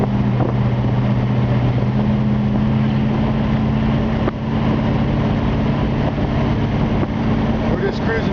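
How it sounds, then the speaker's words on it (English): A 1963 Ford Galaxie convertible cruises at about 55 to 60 mph, heard from inside as a loud, steady engine and road drone with constant wind rush and no letup. "We're just cruising right now. I'm doing about 55, 60 miles an hour, and it's cruising perfect."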